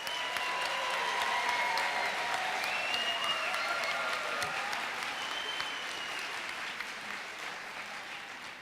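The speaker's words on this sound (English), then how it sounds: "How about another round of applause for all of tonight's volunteers?" A school district recognition night audience gives a sustained round of applause for volunteers, a steady wash of clapping at moderate distance that slowly eases, with voices and cheers faintly underneath.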